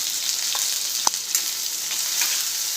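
Three medium onions, cut into large pieces, fry in oil with asafoetida over medium heat, a loud, continuous sizzle close by with a few sharp clicks from stirring.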